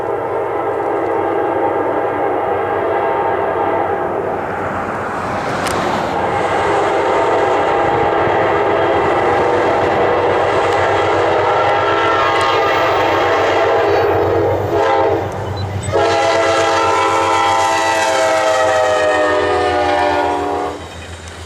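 An eastbound Amtrak Pennsylvanian passenger train led by locomotive B32-8W 513 rolls past loudly, rumbling steadily throughout while its horn blasts several times, including long sustained notes toward the end.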